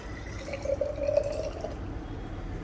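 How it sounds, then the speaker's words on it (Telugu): Water poured into a spray bottle makes a short, close trickle that swells in the middle and then tails off, with no voices over it. "ఇప్పుడు కొద్దిగా వాటర్ వేసుకొని చూద్దాం"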